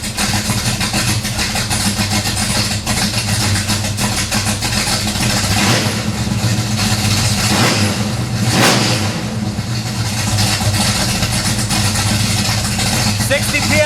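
A Pontiac LeMans with a 455 engine runs on a rack, its steady loud engine drone rising in a couple of revs near the middle, with people talking over it.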